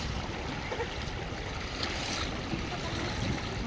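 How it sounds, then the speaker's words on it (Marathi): Fast-flowing water on the Narmada rushes steadily and close by, a continuous broadband roar with no voices over it. "खूप वेग असतो पाण्याला."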